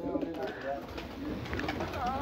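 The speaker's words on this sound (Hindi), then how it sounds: "ये बहुत ही अच्छी नस्ल के कबूतर हैं।" Purebred pigeons coo at a pigeon farm, with low, throaty rolling calls repeating under a steady background hum.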